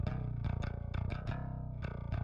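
Raw DI bass guitar, recorded in drop C and pitched down, plays loud, deep, sustained notes with sharp plucked attacks in a steady rhythmic pattern, alone and dry.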